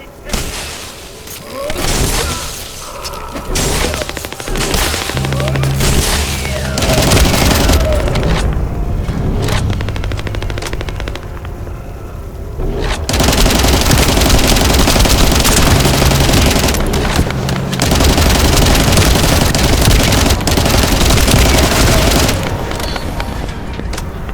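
Turret machine gun fire in the sci-fi shooter The First Descendant rattles almost continuously, loud and dense, with blasts and explosions mixed in and game voices briefly heard over the battle.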